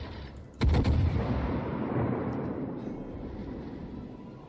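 A warship's naval guns fire in World of Warships: one heavy boom, followed by a long rolling rumble that slowly fades.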